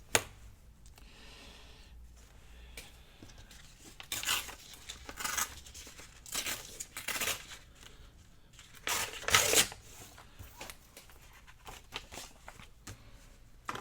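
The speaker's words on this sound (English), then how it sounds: "I'll just use my ruler and tear it" Paper torn along a ruler for journaling cards, a series of close, dry ripping bursts separated by pauses, loudest in a long final rip, with no voices.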